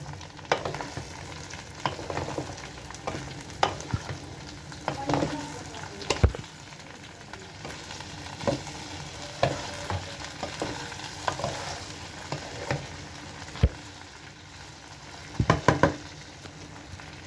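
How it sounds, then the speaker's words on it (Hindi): Okra frying in a pan for a masala bhindi dish, giving a continuous sizzle with frequent clicks and scrapes of stirring, plus occasional louder knocks against the pan. "भिंडी जो फ्राई हो रही है अच्छे से।"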